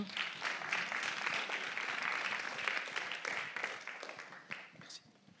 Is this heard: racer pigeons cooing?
no